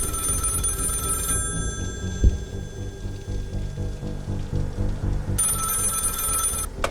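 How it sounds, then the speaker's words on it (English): An old-fashioned telephone bell rings in bursts at a neon-lit guest sign-in spot, loud metallic ringing at the start and end with a low droning rumble underneath and no speech. "and a ringing telephone"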